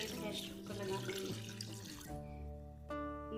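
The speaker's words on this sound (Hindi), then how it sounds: "अब मैं इसके अंदर 2 लीटर पानी डालकर इसको 20 मिनट के लिए प्रेशर कुकर लगा दूँगी" Water pours into a pressure cooker holding beef and whole spices for yakhni, about two litres in all: a quiet, continuous splashing stream that stops partway through, followed by a faint tonal hum.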